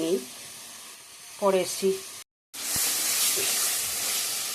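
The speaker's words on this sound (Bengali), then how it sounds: "মশলাটা ভালো করে কষিয়ে নিয়ে নিয়েছি" Spice paste (masala) for chicken curry fries hard in a pan, a loud steady sizzle that fills the second half after a brief gap, with a short spoken phrase over quieter frying at the start.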